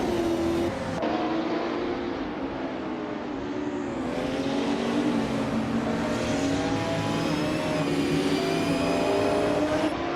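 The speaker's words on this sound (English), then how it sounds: "the race is kicking off at Barber Motorsports Park, and TTV Kena 88 is starting on pole with that sleek 1998 Porsche 911 GT2" Race cars rev and roar at Barber Motorsports Park in a racing game, led by a 1998 Porsche 911 GT2, a loud continuous engine drone climbing in pitch through gear changes with layered cars close by.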